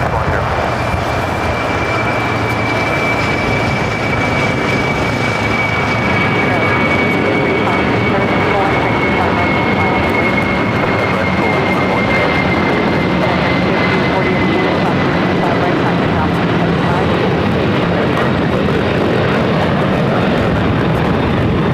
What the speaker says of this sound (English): This is Coletta Air 686 taking off to Cincinnati on the 747-400 converted freighter.